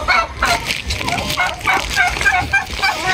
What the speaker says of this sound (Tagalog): mayroon pa po akong natira na local turkey na 11 piraso na lamang po ito, na mga babaeng local turkey